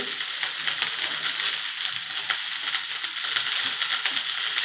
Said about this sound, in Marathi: आता त्यावर मी कांदा टाकते, त्यावर कोबी घालते, शिमला मिरची घालते